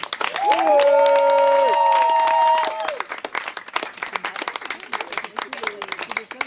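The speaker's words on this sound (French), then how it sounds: "Donc je vous demande d'applaudir très très fort la venue au micro de Pierre-Alexis" A crowd claps at a slam poetry evening in Vence, loud dense applause with a voice and tonal sounds over it at first, then thinning into looser scattered claps.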